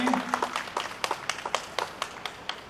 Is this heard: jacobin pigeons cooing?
no